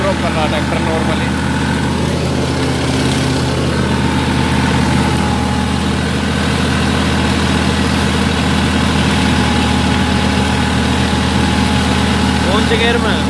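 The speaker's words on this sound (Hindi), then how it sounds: "लगभग 100 RPM ड्रॉप कर रहा है ट्रैक्टर नॉर्मली।" A Massey Ferguson 9500 tractor engine runs steadily while driving a mulcher through leafy field debris, a loud continuous low drone and hum with no breaks over the whole stretch.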